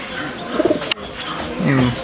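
Pigeons coo softly in a racing-pigeon loft, with a few low throaty coos close by, a brief sharp click in the middle and a faint background murmur.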